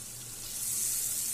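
Paneer hitting hot spiced masala in a pan, a close, steady sizzle that swells a little louder over about a second and a half.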